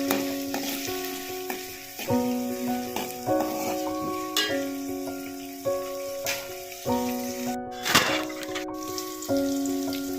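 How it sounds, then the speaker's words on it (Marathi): Chopped onion fries in hot oil for a white shrimp curry, sizzling steadily up close with repeated stirring scrapes and clinks of a spoon against the pan. "आता आपण कांदा टाकूया कांदा छान परतून जा"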